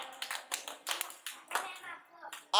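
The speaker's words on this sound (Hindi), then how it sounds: "शाबाश, जोरदार तालियां रेहान शबीर के लिए" Schoolchildren in a classroom alphabet activity clap for a classmate in several short bursts of scattered, uneven applause, with young voices mixed in between the claps.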